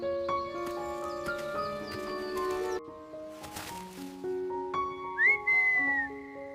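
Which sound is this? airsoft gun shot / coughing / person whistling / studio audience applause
person whistling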